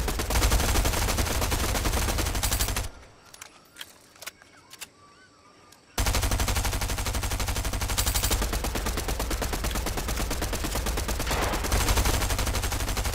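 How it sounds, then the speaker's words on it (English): Gunfire in a Fortnite match, including a shotgun blast, with repeated loud bursts of shots and battle noise filling most of the stretch, broken by a quieter gap with a few scattered sharp cracks before the heavy firing resumes. "Shotgun blast somewhere, I don't know where."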